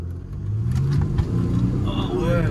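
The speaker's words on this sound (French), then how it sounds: "Vas-y, fais une petite accélération ici là" A Mercedes ML 350 diesel SUV accelerates from low speed, its engine note climbing steadily as it pulls away, heard from close by with some faint cabin rumble.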